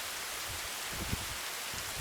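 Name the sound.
light rain falling on hiking trail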